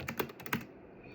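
Several quick keystrokes tapped out on a computer keyboard while entering a password, a short uneven burst of clicks that stops and leaves a quiet tail.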